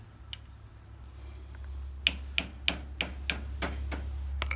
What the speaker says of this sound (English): I'm just going to tap it on with a light hammer.